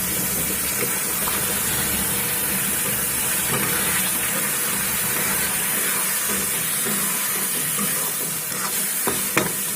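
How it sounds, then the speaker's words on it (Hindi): Water hits hot roasted semolina and sugar in a pan, setting off a loud, steady hiss and sizzle with bubbling and stirring, close up and continuous for about ten seconds with no talking. "इसमें पानी ऐड कर दे रहे हैं"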